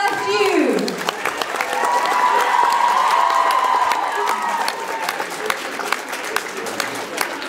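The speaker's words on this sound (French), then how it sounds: "applaudit bien fort." Audience applause and cheering fill the hall at the closing ceremony of a Harry Potter convention in Paris, with steady, dense clapping throughout, a warbling whistle-like tone sustained in the middle, and voices mixed into the crowd.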